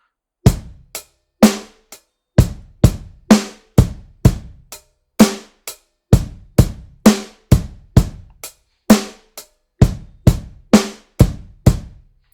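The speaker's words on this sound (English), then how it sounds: "try and play each and every one of these beats that we just played while hitting the hi-hat softly" Finger-drumming beat played on pads, with softly struck hi-hats between loud kick and snare hits, in a steady, even pattern of sharp percussive strikes lasting about twelve seconds, with no voice.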